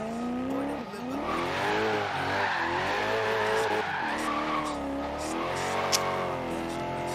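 Car oversteering and drifting in Forza Horizon 3, engine revving hard with wavering pitch as the tires squeal and skid through the slide, loud and continuous, with a brief sharp knock near the end.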